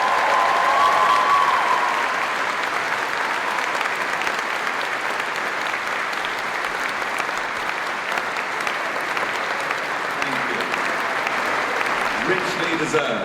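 Sustained, dense applause from a large audience at a University of Warwick graduation ceremony, steady and even throughout with no speech over it.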